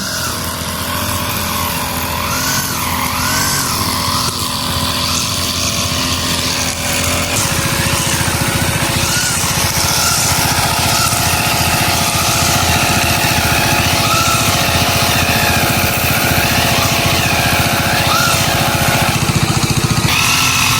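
A grass cutter's small engine drones steadily and loudly throughout while cutting very thick grass around coconut trees, with no talk.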